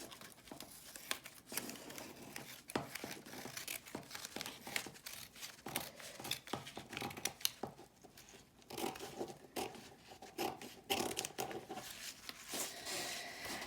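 Scissors trim the top and bottom edges of a finished paper weaving, producing a steady run of close crinkling snips and paper rustles with no talking.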